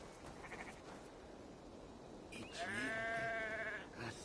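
A sheep bleats in a video game, one drawn-out wavering bleat near the end after quieter background ambience, fairly close and clear.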